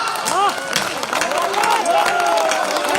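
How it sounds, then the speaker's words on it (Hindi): Audience applause at a Hindi poetry recital (kavi sammelan), a fairly soft, steady patter of clapping and crowd noise with a voice carrying over it throughout. "तालियां कमजोर है आपकी।"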